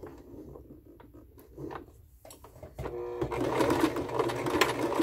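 A sewing machine stitches an army chevron patch, a low mechanical whir that starts softly and grows louder and steadier over the last two seconds.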